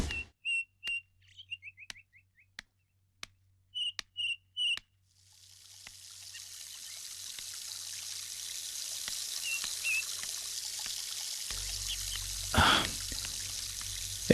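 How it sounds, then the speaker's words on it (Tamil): Water poured onto garden plants: after a few short whistles and chirps, a steady hiss of pouring or spraying water rises and continues, with a brief louder splash near the end. "நல்ல ஹாபி தான் செடிக்கு தண்ணி ஊற்றுறது."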